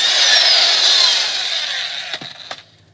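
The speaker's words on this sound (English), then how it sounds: "And the impact will take that right off." A power impact wrench loosens the 160 ft-lb rear axle nut on a Mercedes R170, giving a loud, close, high whirring burst that fades, then two sharp clunks at the end.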